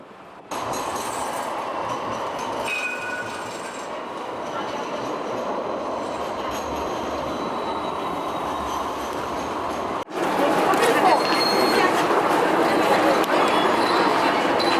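A Sydney Trains service at Central Station, a steady rumbling roar of rail carriages that swells louder partway through, with faint talk underneath.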